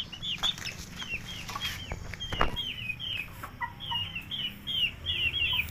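Chickens cluck and chatter close by in a farmyard beside a newborn calf, with irregular bursts of clucking and a few soft thumps but no voices.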